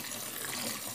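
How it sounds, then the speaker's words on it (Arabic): Vinegar poured into a bowl of water while chicken is being cleaned, a steady close splashing trickle of liquid without any talk. "اول حاجه كناخذ الاناء اللي فيه الماء وكنضيف له الخل"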